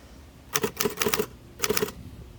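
Crisp keystrokes on a 1933 Underwood four-bank portable typewriter, typed outdoors, clack in quick bursts, a run of six or so strikes, a short pause, then two more, close and clear.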